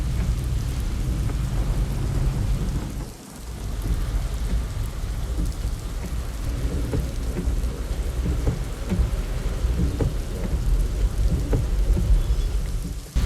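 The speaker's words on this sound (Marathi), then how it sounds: "या पालखी प्रस्थानाला पावसानं सकाळपासूनच जोरदार हजेरी लावली" Heavy rain pours steadily and loudly at Alandi on the morning of the Dnyaneshwar Maharaj palkhi procession's departure, a dense unbroken downpour with a low rumble and a brief lull around the third second.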